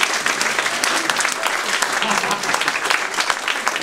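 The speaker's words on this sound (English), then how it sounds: "Give Angus a round of applause." Audience applause at a live stand-up comedy show, a steady dense wash of clapping from a full room that holds loud and even for the whole stretch, with no voices over it.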